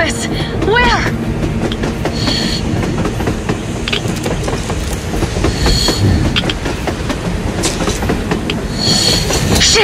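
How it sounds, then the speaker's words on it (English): A train rolls along rails on the surface in Metro Exodus, wheels clattering steadily and loudly with occasional squeals, continuous throughout, while a voice speaks over it. "A damn train on the surface!"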